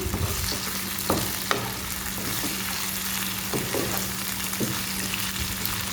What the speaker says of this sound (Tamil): இப்போ ஒரு 2 நிமிஷம் ப்ரான் இப்படியே குக் ஆகட்டும்